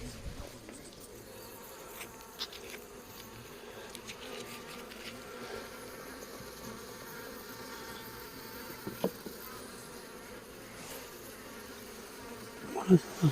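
Honeybees buzz steadily at an opened beehive, a soft continuous drone close by with a few light knocks and handling sounds near the end.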